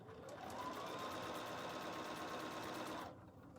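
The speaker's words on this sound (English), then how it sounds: "So let's finish stitching our little seam here." A Bernina sewing machine stitches a seam in a steady, fast mechanical whir with rhythmic needle ticks, loud and close, running continuously for about three seconds before stopping abruptly.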